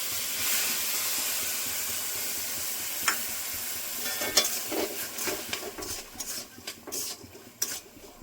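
A bowl of milk for sandesh is stirred in a hot pan, a steady hissing sizzle broken by scraping spoon strokes that grow sparser and more scattered toward the end, close by with no voices.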